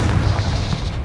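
A Confringo spell explodes in the Hogwarts Legacy video game, a loud, continuous booming blast with heavy low rumble that holds steady for about a second.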